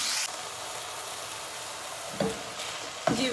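Minced meat frying in a pan gives a soft, even hiss, broken by two brief scraping stirs near the end. No one speaks over it.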